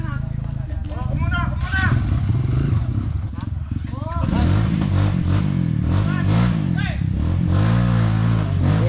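An enduro motorcycle engine revs on a dirt trail ride in Tarlac, Philippines, rising and falling loudly up close in repeated bursts while people shout and talk over it.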